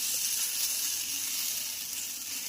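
Batter of green moong dal and jowar flour sizzles steadily on a hot pan for a dhirde, a continuous bright hiss with no talking.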